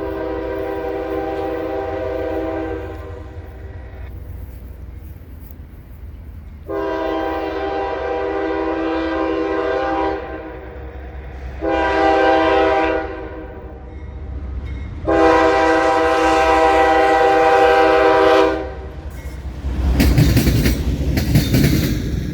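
CSX locomotive CSXT 7878, running as a light engine, sounds its horn in several long blasts separated by pauses, loud and close, with engine rumble underneath and a rush of passing noise at the end.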